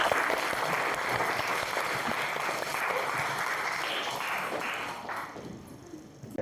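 A class applauds for a student named Dimas: sustained clapping from many hands, fairly loud and steady for about five seconds before tapering off, with no talking over it.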